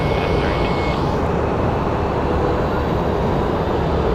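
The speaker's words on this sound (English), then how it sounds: "Here we go, the Amazon 767." An Amazon Boeing 767 jet at Phoenix Sky Harbor Airport sends out a loud, steady, broad engine roar that holds without a break, close by.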